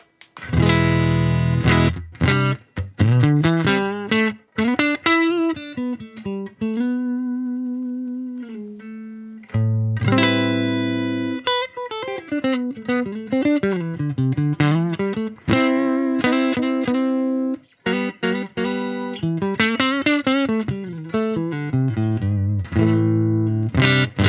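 Electric guitar playing a riff with sustained chords and melodic bends through a Marshall DSL5CR tube amp on the clean channel, gain halfway, no reverb, steady and loud, a slightly driven edge, no voices.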